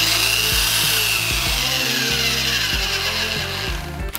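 Tekhmann belt sander running at full speed, a loud continuous whirring hum of the motor and belt, steady throughout with slight wavering in pitch, no talk.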